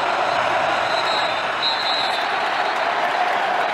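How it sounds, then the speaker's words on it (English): Loud, continuous roar of a stadium crowd at a college football game between Washington and USC, a dense wall of cheering noise with faint whistles, steady throughout. "Crowd noise affecting forces USC to..."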